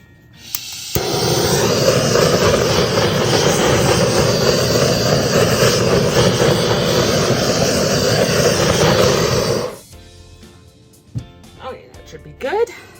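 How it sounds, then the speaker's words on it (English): A handheld torch flame passes over a black and white acrylic ring paint pour, making a loud, steady roaring hiss for about nine seconds that cuts off abruptly, followed by faint clicks and light clatter. "I'm gonna give it another quick torch."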